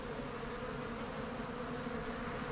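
Honey bees in an opened hive hum in a steady, close drone, a continuous buzzing texture with no voices over it.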